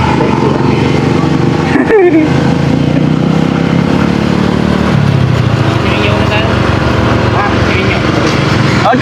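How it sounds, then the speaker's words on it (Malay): A motorcycle engine droning loud and close throughout a ride, a steady buzzing hum with wind noise, while people talk over it. "Lama tak naik motor kan?"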